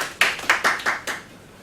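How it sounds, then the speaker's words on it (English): A small classroom group gives a brief, sparse burst of about five distinct hand claps in quick succession, fairly close, before it fades into quiet. "round of applause everybody"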